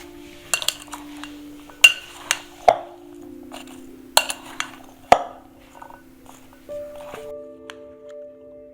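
Chana chaat being mixed with spices in a bowl: a spoon clinks sharply against the bowl in scattered strikes, some louder and ringing, over a steady low hum, with soft scraping between the knocks.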